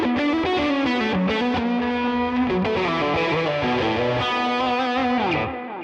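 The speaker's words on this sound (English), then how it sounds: "add in the overdrive 2 pedal in the pre-effects section and it transforms into this singing, saturated, sustaining lead sound" An electric guitar plays a lead line through an overdrive pedal with delay and reverb, producing a saturated, sustaining, singing tone that holds notes and then tails off into the reverb at the end.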